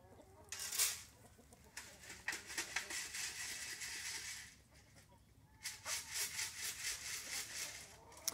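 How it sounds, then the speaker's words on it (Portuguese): Free-range chickens on a small farm cluck and scratch close by, a busy ongoing chatter of many birds with rustling, briefly easing before picking up again. "Mas fica para vocês outra visão das galinhas caipiras aqui"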